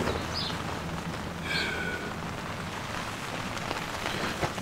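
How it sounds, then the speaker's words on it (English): Steady rain patters continuously on a tent overhead, a dense even hiss with occasional faint chirps. "But the rain was nice, sleep under."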